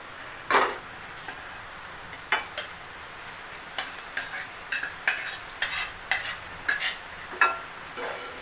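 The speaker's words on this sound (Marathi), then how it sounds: "उकळलेली भाजी टाकून घेतलेली आहे." Boiled vegetables being stirred in a frying pan, a low sizzle under repeated close taps and scrapes of a spoon against the metal in an uneven rhythm, with no talking.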